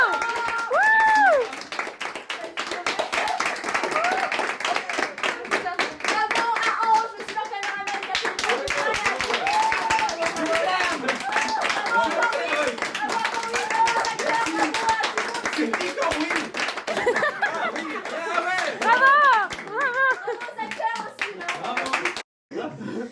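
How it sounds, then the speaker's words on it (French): A film crew and audience clap at the wrap of a short film shoot, with uneven hand claps throughout as people talk, cheer and call out over them. "S'il vous plaît, on peut applaudir Laura qui a fait tout ça"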